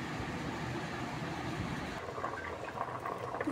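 A jaggery sweet mixture bubbling and simmering in a pot, a steady close rumble of boiling with soft popping bursts that brighten toward the end.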